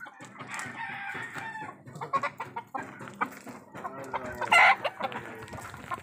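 A glossy, well-kept rooster crows and clucks nearby, with repeated short clucks and a loud, ringing crow near the end, against faint outdoor background noise.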